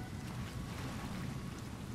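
A massive waterfall beside a pond in the dinosaur survival game The Isle gives off a loud, constant roaring rush of falling water, a dense steady wash with no pauses.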